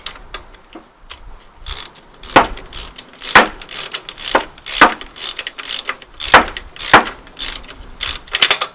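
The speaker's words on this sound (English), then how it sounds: "nice and tight with a wrench and a spanner" A ratchet wrench tightens gearbox bolts during a 1.6 Astra H engine replacement, giving close, loud bursts of rapid clicking in irregular runs with brief pauses between strokes and no talking.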